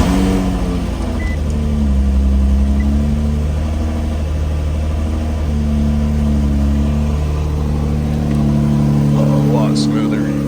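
Infiniti G35 running in a garage after a swap to a JDM VQ35DE engine, a steady close idle with low droning tones that shift slightly in pitch, continuous throughout with a brief higher noise near the end.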